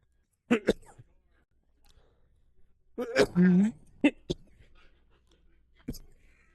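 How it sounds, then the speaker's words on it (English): A few short, close coughs and throat-clearing bursts from someone at home, coming in separate clusters with quiet pauses between them. "I am sorry about the coughing"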